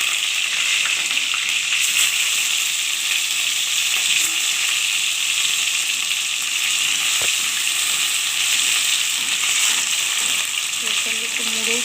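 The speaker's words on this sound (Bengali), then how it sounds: "তেলটা ভালোভাবেই গরম হয়ে গেছে, এবার একটা করে করে মাছের পিস আমি তুলে দেবো" Rohu fish pieces frying in hot mustard oil with nigella seeds, a steady, dense sizzle that stays loud and even throughout, with a few brief clicks and no talking.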